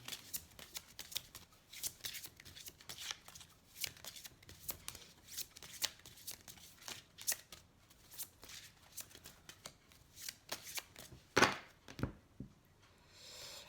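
A deck of tarot cards is shuffled by hand close up, with repeated quick riffling and flicking bursts in irregular rhythm, some louder snaps near the end, then a brief quiet pause.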